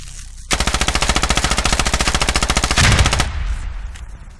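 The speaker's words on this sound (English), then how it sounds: "Guy shooting the floor" Sustained automatic gunfire in a close-quarters video game match, a loud rapid burst of evenly spaced shots for under three seconds from an enemy firing at the floor, ending in a heavier blast and fading echo.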